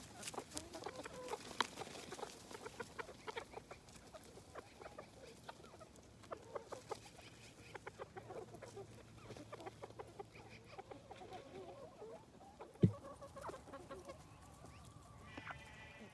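Chickens cluck softly and intermittently in a chicken tractor, with scattered short calls and a sharp knock near the end, fairly quiet overall.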